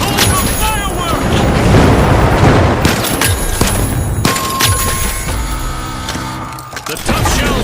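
Fireworks explosions crackle and boom through a match of the video game The Finals, dense bursts layered over constant game noise and a commentator talking throughout.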